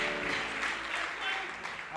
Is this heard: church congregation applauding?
yes